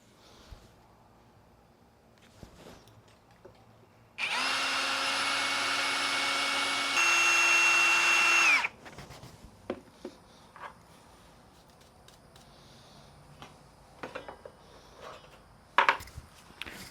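A power drill boring small holes, one steady whining run of a few seconds that shifts pitch partway through as the load changes, then stops, followed by scattered light clicks and handling knocks.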